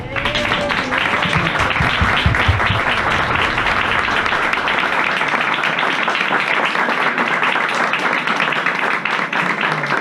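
Loud, sustained applause from a large crowd at a book launch in a bookstore, steady clapping filling the space throughout, with a voice briefly audible at the start.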